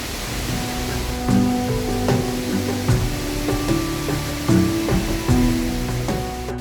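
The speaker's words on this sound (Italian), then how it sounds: "con il rumore dell'acqua in sottofondo" Water rushes steadily in a mountain stream beside a via ferrata on the Rio Salagoni, a continuous broadband roar with scattered clunks and knocks over it and no voices.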